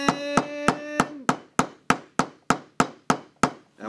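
A hammer striking the window of a plastic toy pirate ship over and over, about eleven sharp, loud knocks at a steady pace, each one bright and close with a short ringing decay.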